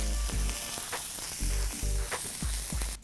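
American beef sizzles on a hot grill, a steady loud crackling hiss close up, with soft low bumps recurring throughout.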